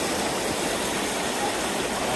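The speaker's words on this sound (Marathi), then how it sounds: "आता हे पाणी त्यातनं आता चाललंय" Water runs through a channel beside a muddy rice field during the monsoon, making a steady, loud rushing wash with no pauses and no voices.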